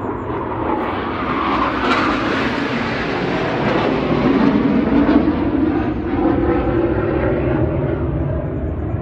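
French Air Force military jet aircraft passing overhead, a loud steady roar of engine noise holding for the whole stretch with a broad rumbling wash and no talk over it.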